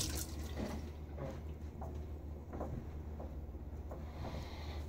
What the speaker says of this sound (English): I'm going to go ahead and put in a little bit more water in my bowl here